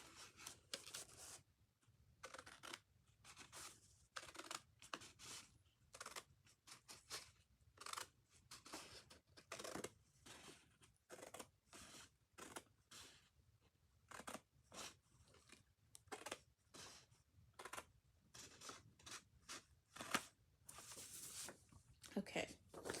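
Sheet of paper being cut with scissors at close range, a steady run of short crisp snips and rustles with brief pauses between strokes, quiet overall, no talking.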